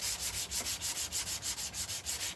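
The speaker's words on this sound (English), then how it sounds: "So you've just got to resign yourself to hours of sanding." Sandpaper worked by hand across a resin-topped guitar body, about a dozen quick, even back-and-forth strokes in a steady rhythm, close and fairly quiet.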